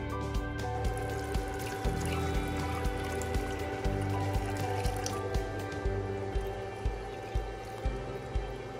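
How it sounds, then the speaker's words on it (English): Water pours into an electrocoagulation pilot plant, a continuous liquid rush and drip over a steady loud mechanical hum with regular faint clicks, no talking. "Okay, now let's pour water."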